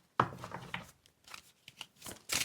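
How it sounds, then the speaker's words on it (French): Tarot cards being shuffled and drawn from a deck, giving soft, close riffling and flicking with a crisp snap at the start and a brisk flurry at the end, quiet overall. "je vais juste tirer une autre carte comme ça pour voir les énergies"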